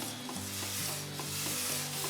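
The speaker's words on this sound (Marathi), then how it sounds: "आता आपण पाहू शकता दुधाला आता उकळी यायला लागली आहे आता एक दोन मिनटं मी हे हलवून घेणार आहे" Milk coming to a boil in a pot is stirred steadily, a continuous close scraping and swirling with a faint bubbling hiss underneath and no voices.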